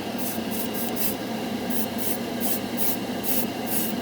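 An airbrush sprays Mission Model chrome acrylic paint, used unthinned, as a constant hiss broken by regular short bursts of brighter airflow, close and fairly quiet.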